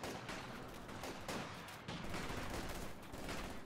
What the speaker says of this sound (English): Shooting a phosphorus round.